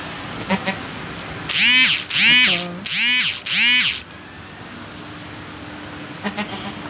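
A castrated male goat bleats four times in a row, loud and nasal, over steady background noise at a livestock market, with a few faint bleats farther off afterward.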